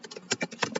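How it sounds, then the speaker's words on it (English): Fast typing on a computer keyboard while writing a Python exercise, a quick close run of clicky keystrokes with no talking. "Oops, I'm typing too fast, I think."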